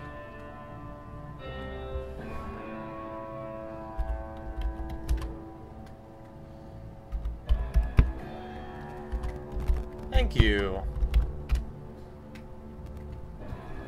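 Typing on a computer keyboard, with bursts of soft clicking key presses at close range over a quiet music background and a brief spoken phrase.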